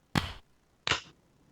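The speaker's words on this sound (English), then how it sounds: "Let's do our clap real quick." Two sharp hand claps about three-quarters of a second apart, made to sync a podcast recording, close and crisp with short decays and no talking.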